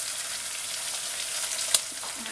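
Sliced onion, garlic and ginger sizzling in hot oil in a pot while cooking rougail saucisses, a steady bright hiss with a brief sharp crackle near the end and no talking.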